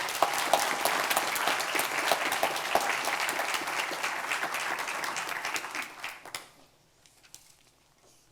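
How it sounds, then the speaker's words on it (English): A large audience at a county public health event applauds in a dense, sustained roar of clapping that fades out and stops near the end. "Let's give them another round of applause."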